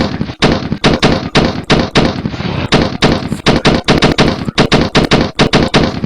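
Terminator film scene gunfire: loud, close, rapid bursts of shots crackling one after another in dense, uneven volleys that fill the whole stretch without pause.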